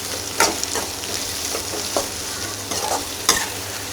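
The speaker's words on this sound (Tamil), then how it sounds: "இப்போ ஹை ஃப்ளேமில் வச்சுட்டு நல்லா மிக்ஸ் பண்ணுவோம்." Prawns for a village-style prawn thokku fry are stirred in a pan over high flame, with steady sizzling and a few sharp spoon scrapes against the pan.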